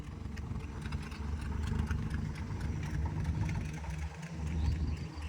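A car engine idles low and steady as the car reverses slowly during a driving lesson, a faint continuous rumble with no clear revving.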